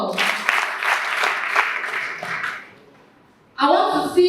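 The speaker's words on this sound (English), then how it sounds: "clap for yourself" An audience claps together for about two and a half seconds, a thick burst of many hands that fades into quiet, after which a voice begins speaking loudly.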